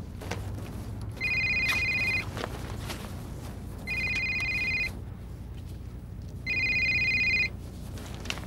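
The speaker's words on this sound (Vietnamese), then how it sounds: "Điện thoại trong này mà." A mobile phone rings in three separate bursts of an electronic tone, each about a second long with short gaps between them. The ringing sounds fairly close over a quiet room background, and no one speaks.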